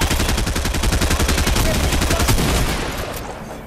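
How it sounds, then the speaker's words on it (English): Rapid SMG fire in a video game, one long sustained burst of fast, evenly spaced shots, loud and close, trailing off at the end. "that's my SMG"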